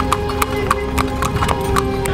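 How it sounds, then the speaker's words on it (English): Horse hooves clip-clop in a steady, even rhythm as a horse-drawn carriage rolls along a street near the Temple of Edfu in Egypt, close and clear over a low background hum. "after a nice little 10-minute cruise on the horse and carriage"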